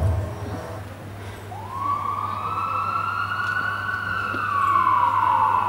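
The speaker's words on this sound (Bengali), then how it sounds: "হঠাৎ চারপাশে এত সাইরেন বাজছে কেন?" A siren wails in an audio drama scene, rising from a low hum into a loud sustained tone that holds and slowly shifts pitch, with a faint engine rumble beneath.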